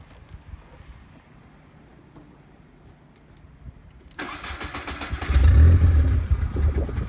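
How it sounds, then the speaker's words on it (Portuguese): A Volkswagen Gol Turbo engine starts after a few quiet seconds, then revs up loudly with a deep, rising roar close by, with no talking. "Olha o barulhão do turbão."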